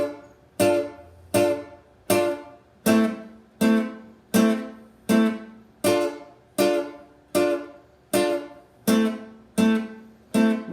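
Jazz guitar strumming two minor triad chord shapes, about a dozen evenly spaced strums, each ringing and decaying before the next, played alone at moderate loudness.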